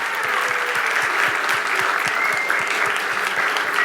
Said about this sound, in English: big round of applause for all of our contestants in this round who studied so hard